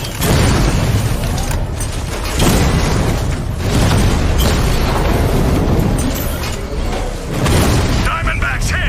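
Loud, rumbling blasts in Batman: Arkham Knight as a Diamondback tank is hit, heavy booms rolling one after another amid dense battle noise.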